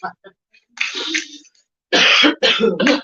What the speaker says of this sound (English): I've been coughing off and on all day.